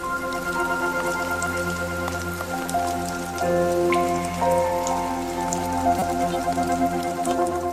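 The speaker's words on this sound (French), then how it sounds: "Les averses sont une autre occasion d'entretenir ce magnifique plumage" Steady rain shower pattering over foliage where hummingbirds bathe, a continuous dense drizzle of drops with scattered louder drips, fairly close, with no voices.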